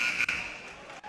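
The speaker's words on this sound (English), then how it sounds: "And the buzzer sounds" A long electronic buzzer blares in the Guilderland High School gymnasium at a unified basketball game, loud and steady with a short break near the start.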